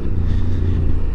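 A Yamaha Tenere 700 motorcycle ridden off-road on a rough, ungraded dirt road, giving a loud, steady engine drone with heavy low rumble and wind buffeting close to the rider.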